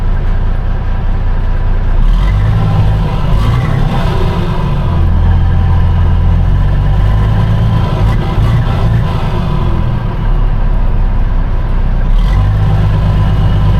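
A vehicle engine with a warning code runs steadily and close by for the whole stretch, its low rumble rising and easing slightly as the throttle changes, with no talk.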